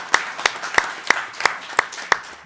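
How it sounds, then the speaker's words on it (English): Applause at a city council meeting comes through as a run of seven crisp, evenly spaced claps in a steady rhythm. The claps are close and fairly light, with a quiet room behind them. "Let's give another round of applause to him."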